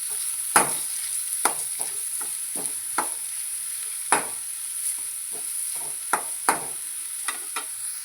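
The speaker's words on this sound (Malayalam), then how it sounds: "ഇത് നന്നായിട്ടൊന്ന് വഴറ്റിയെടുക്കണം." Grated pumpkin sautéed in a pan, a soft steady sizzle with a spoon scraping and tapping against the pan at irregular intervals, close and clear with no voices.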